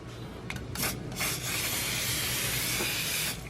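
A steady hissing spray of canola oil cooking spray, a few short bursts followed by one long continuous spritz, close by and fairly loud with no talking.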